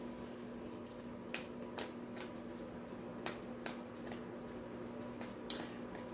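Oracle cards are shuffled by hand in quiet, scattered bursts of soft papery flicks and snaps over a faint steady room hum, with no one speaking.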